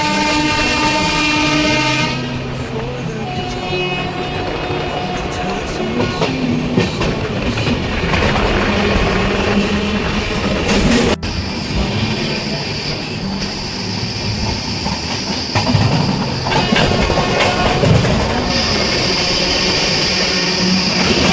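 The 15074 Triveni Express passenger train runs steadily on rails near Roza Junction, with continuous rolling rumble and clickety-clack throughout and a horn-like tone sounding in the opening seconds.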